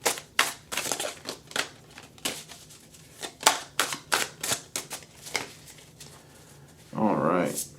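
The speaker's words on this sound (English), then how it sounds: "But first I'm going to shuffle." Tarot cards being shuffled by hand: a run of quick, crisp riffling bursts in an uneven rhythm, close and moderately loud, with a brief voiced sound near the end.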